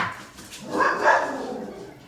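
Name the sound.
dog barking in the house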